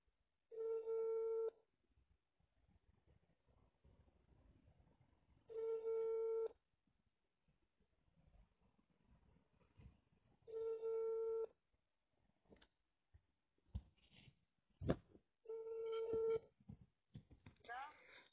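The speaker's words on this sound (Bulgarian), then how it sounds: "Ще звъня на Ани" A mobile phone call rings out in four long evenly spaced tone bursts, clear and moderately loud, with faint background noise and some handling sounds between rings before a voice begins near the end.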